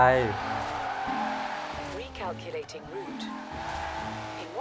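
A car in Forza Horizon 4 drives through snowy roads, its engine rising and falling through gear changes, with someone speaking over the driving.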